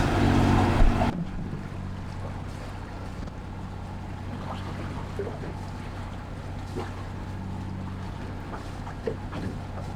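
A steady low drone from a single boat engine running at about 3.8 knots, with wind and water noise over it after a brief louder burst at the start.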